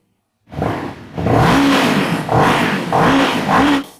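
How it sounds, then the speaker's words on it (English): A Moto Morini Calibro twin-cylinder custom bagger motorcycle roars while riding through traffic, kicking in abruptly after silence and surging through several loud revving pulses with gear-shift dips between them. "Hop on the chin bar and let's listen here while moving to the roar of the twin"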